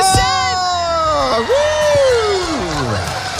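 A live crowd at a Beauty and the Beast event whoops and yells for an announced winner, loud, sustained cheering with rising and falling shouts and a few high voices.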